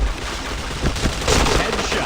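Rapid video game gunfire crackles in a dense, continuous burst, loud and close, filling the short stretch without pause.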